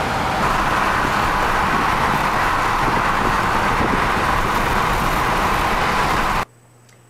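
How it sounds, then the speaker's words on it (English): Continuous roar of stop-and-go traffic on Toronto's 401 highway, many lanes of cars blending into an even broadband hum that runs steadily before cutting abruptly to near silence at the very end. "Lanes of traffic"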